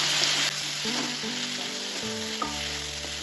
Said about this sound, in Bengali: সব কিছু তেলের সাথে ভালোভাবে আবার ভেজে নেব